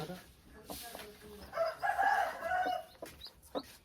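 Native village chickens with newly hatched chicks, a rooster crowing and hens clucking at moderate distance, with a louder call swelling in the middle and faint human voices at times.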